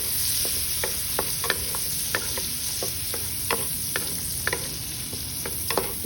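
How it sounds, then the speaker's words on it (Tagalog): Garlic, onion and spring onion sauté in a hot pan for a shrimp and patola dish, a constant loud sizzle broken by regular clacks of a utensil stirring and scraping, with no talking. "saute the garlic. And then the onion and the spring onion."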